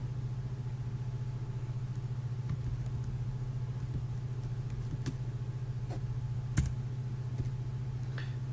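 Keys on a computer keyboard are typed while writing Urdu text in InPage software, giving sparse, faint clicks over a steady low electrical hum with no speech.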